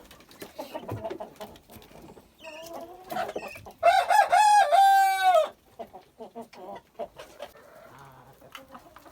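A rooster crows once, loud and close, among Amrox chickens, with hens clucking and other farmyard noise before and after the crow.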